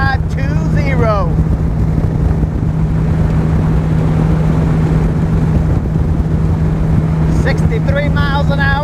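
A bass boat on Lake Guntersville running at about 61 mph near 5,500 RPM, with a loud steady engine drone, a low hum, and wind and water rush throughout. Someone speaks briefly over it at the start and end.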